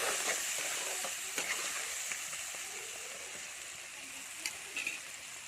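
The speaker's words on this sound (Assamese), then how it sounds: "এতিয়া পিঁয়াজ তেল দি হালধি দি আলুখিনি দি দিলোঁ।" Potatoes frying in hot oil with onion and turmeric, a steady close sizzle that holds even throughout, broken by a few soft stirring clicks and scrapes, with no talking.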